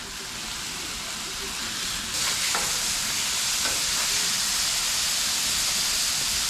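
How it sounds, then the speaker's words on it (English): Beef burgers frying on a hot surface give off a loud, steady sizzle and hiss up close, swelling brighter partway through as the fat spits. "Burgers are cooking up good."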